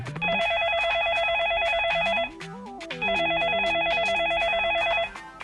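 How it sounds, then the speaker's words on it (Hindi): A phone ringback tone repeats in two long bursts of electronic trilling, with a short run of stepping tones between them, loud and close. "फोन लगाया जाए प्लीज।"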